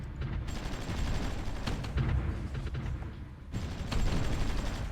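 Dense gunfire and artillery bombardment in the Supreme Ruler Ultimate strategy game, a continuous rumbling barrage of overlapping shots and booms that persists loudly throughout.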